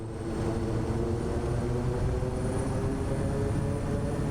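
A Kodiak 100 propeller aircraft in Microsoft Flight Simulator 2024 uses reverse thrust on landing, a steady, loud engine and propeller roar with a low droning hum that holds constant throughout.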